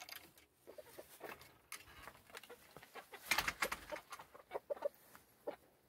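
Backyard chickens clucking inside a winter coop, scattered short calls at close range, with a brief louder flurry of activity midway and softer clucks continuing after.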